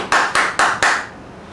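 Four sharp, evenly spaced hand claps ring out close and loud, each with a short echo, before fading into quiet.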